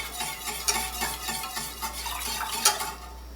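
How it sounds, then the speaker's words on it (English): Freshly grated Parmesan being stirred into Alfredo sauce over low heat makes soft, repeated scraping stirs with a faint simmer beneath and a couple of sharper utensil clinks against the pan. "Now I have a cup of freshly grated Parmesan that I'm going to gradually add in"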